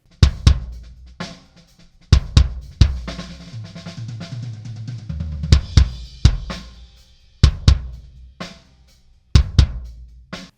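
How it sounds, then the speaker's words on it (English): Deep, punchy kick drum thumps played alone in a loose rhythm, some hits doubled, with a low boomy tail between strikes. "Let's have a listen to the kick drum."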